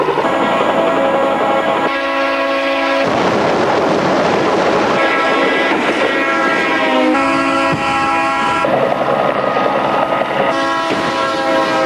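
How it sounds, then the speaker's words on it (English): A train rolls down the tracks toward the listener, its loud, sustained horn blasting in long overlapping tones above a constant rumble of wheels on rail. "just how deceiving it can be to see a train coming down the tracks"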